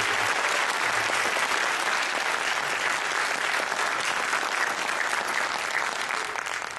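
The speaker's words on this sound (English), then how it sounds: "Let's have a great big round of applause for the band this evening." An audience applauds the Cedarview jazz band at an evening concert, a loud, dense, continuous wash of clapping from a large crowd, sustained throughout.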